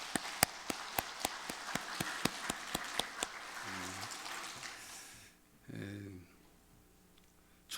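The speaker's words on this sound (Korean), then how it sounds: "우리 부활하신 주님께 영광의 박수 올려드립시다" Church congregation clapping together at a Sunday Easter service, a steady rhythmic beat of hands in unison that fades out, with a voice sounding briefly around it.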